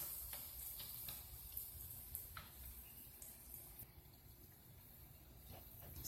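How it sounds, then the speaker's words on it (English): Crab cakes frying in hot oil give a steady, quiet sizzle with scattered small pops and crackles. "you let it fry for another 2 minutes"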